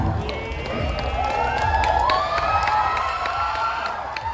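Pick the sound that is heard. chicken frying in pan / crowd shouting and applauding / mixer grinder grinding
crowd shouting and applauding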